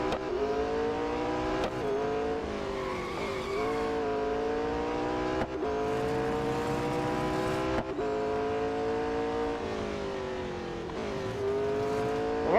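A Porsche Mission R electric race car in the Real Racing 3 mobile game, a high, steady whining drive tone that rises and falls through acceleration and braking, with brief tire noises and no speech.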